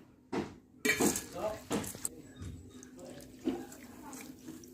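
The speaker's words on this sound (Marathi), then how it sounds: "हे पोहे धुवून घेणार आहे" Flattened rice (poha) being rinsed in water in a bowl, with a few brief splashing, clinking bursts of grains and water against the bowl and quieter swishing between them, close by.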